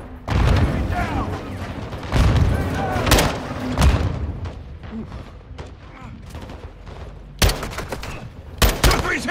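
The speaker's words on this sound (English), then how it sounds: "They're launching grenades!" Heavy battlefield gunfire in Call of Duty Modern Warfare II, with launched grenades booming and loud rifle bursts erupting in repeated clusters, while soldiers shout over the combat.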